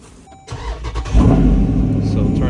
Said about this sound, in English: Start it up.